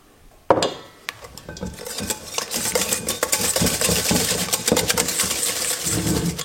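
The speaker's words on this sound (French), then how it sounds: "on en met un et à chaque fois on mélange et ainsi de suite" Whisking eggs one at a time into a black sesame cheesecake batter: a steady run of quick clinking, scraping strokes against a bowl, close and fairly loud, beginning after a sharp knock and continuing to the end.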